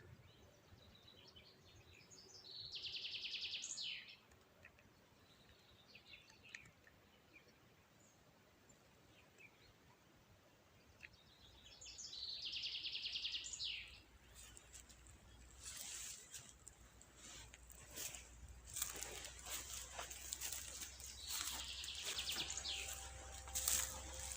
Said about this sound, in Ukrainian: Слухайтеся в тишину лісу, як пташки співають.